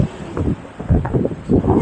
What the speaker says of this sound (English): Windy condition riding.